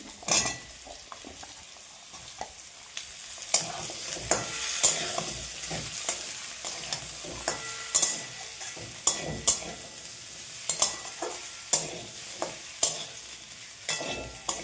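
Potato and cauliflower pieces fry in a pan with a crackling sizzle, punctuated by a steady run of sharp metal spatula clicks and scrapes against the pan as they are stirred.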